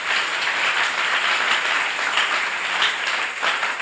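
Steady congregational applause fills a church service, a dense wash of many hands clapping at even loudness throughout, no voices rising above it.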